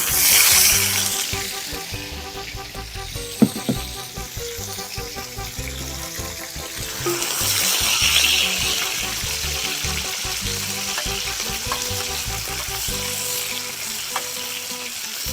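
Onion frying on a saj, a wide domed iron pan, over an open fire outdoors, sizzling loudly and steadily throughout with occasional stirring scrapes and clatter.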